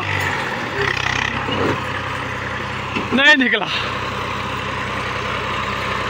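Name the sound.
tractor engine idling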